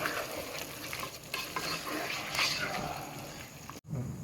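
Chopped tomatoes are stirred into onions and green chillies frying in a pan, making a loud, close sizzle with wet scraping from the spoon.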